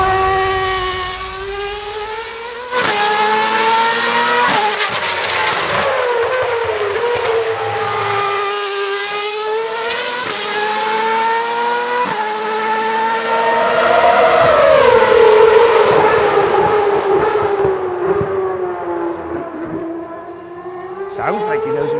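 A Red Bull Racing RB8 Formula 1 car screams through upshifts and downshifts, its high-pitched engine note climbing, dropping and climbing again, loud and close throughout.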